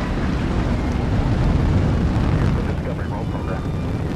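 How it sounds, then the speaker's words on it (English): Space shuttle Discovery's solid rocket booster ignition and liftoff, a loud, continuous deep roar filling the whole stretch with broadband rumble, while a narrator speaks over it. "Booster ignition and liftoff of the space shuttle Discovery"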